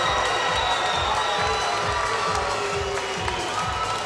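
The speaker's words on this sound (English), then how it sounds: "Getting a lot of applause from the crowd." A large crowd at a Georgia MMA fight cheers and applauds loudly and continuously, a dense roar of voices and clapping filling the arena.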